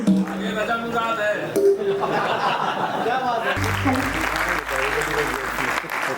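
An audience gives loud applause at a stage event, the clapping running throughout beneath voices, light laughter and tonal music-like sounds.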